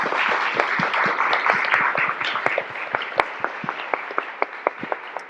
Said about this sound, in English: So I want to give a big round of applause to all of our speakers today